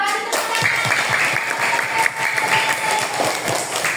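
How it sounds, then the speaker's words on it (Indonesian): A group claps loudly and steadily for a few seconds, with scattered voices and a faint tone underneath. "Kasih tepuk tangan."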